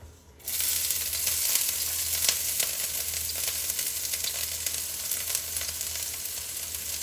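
Cooking oil in a hot wok on an old stove starts with a sudden loud sizzle after a brief quiet moment, then holds a steady close crackling hiss for several seconds.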